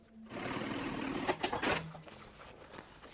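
Sewing machine stitching a seam on a zippered box pouch with clear plastic and lining, a steady continuous motor whir running for a few seconds before winding down.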